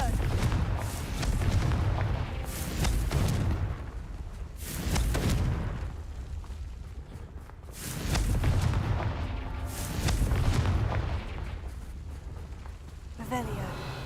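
Confringo blasting spells explode in Hogwarts Legacy, a series of roughly five heavy rumbling booms that swell and fade every couple of seconds, with speech running over them.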